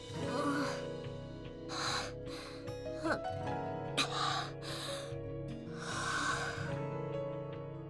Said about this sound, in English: Michiru slowly settles her ragged breathing down